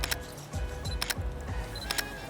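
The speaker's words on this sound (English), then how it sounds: "it sounds a little more classic. Like a little bit more like a mechanical shutter" Several crisp Sony A7C camera shutter clicks with a mechanical-sounding character, each a quick double snap, repeating at uneven intervals close by with no talking.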